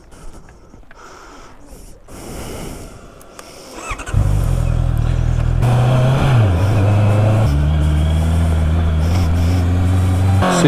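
A 2021 KTM 1290 Super Adventure motorcycle starts after some quiet handling noises, then its engine idles and revs loudly up close, holding a steady rumble with a few pitch shifts.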